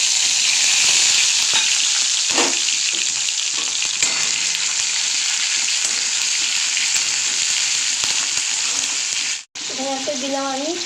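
Ginger-cumin paste ground on a stone slab hits hot oil with dried red chilli and a bay leaf, giving a loud, steady sizzle with occasional stirring clatter that briefly cuts out near the end.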